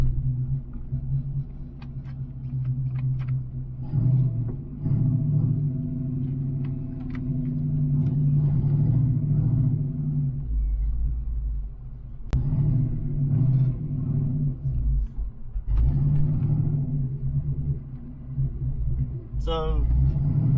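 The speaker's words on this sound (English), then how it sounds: "car's got a little bit of a miss to it." A stroked Ford Mustang Foxbody engine runs rough with a miss, its deep uneven rumble surging and dipping close by while a voice briefly talks over it.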